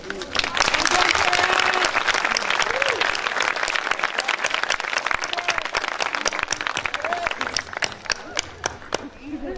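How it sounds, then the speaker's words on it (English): Clapping from the audience at a Head Start graduation honoring parents: a full, dense round of many hands, loud at first and gradually thinning toward the end, with voices and cheers mixed in. "parents, we'd like to all clap for you"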